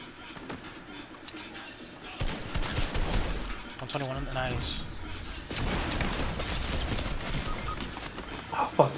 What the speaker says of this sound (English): Hunting rifle.